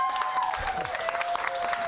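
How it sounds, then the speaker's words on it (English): An audience on its feet gives a warm round of applause for a speaker at an event, a brief burst of dense clapping with a few voices mixed in. "because it's Brooks, let's just stand and give him a big round of applause"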